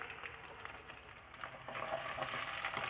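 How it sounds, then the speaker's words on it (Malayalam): Finely chopped shallots drop into hot oil with curry leaves in a clay pot, a faint, steady crackling sizzle that grows slightly stronger toward the end. "അതിലേക്ക് ചെറുതായി അരിഞ്ഞു വെച്ച ചെറിയ ഉള്ളി അത് നമുക്കിതിലേക്ക് ഇട്ട് കൊടുക്കാം"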